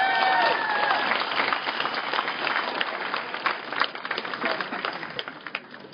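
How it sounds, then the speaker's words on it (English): Crowd at an outdoor justice rally applauding itself, loud dense clapping at the start that gradually thins out and fades toward the end, with scattered voices mixed in. "Give yourselves a round of applause again."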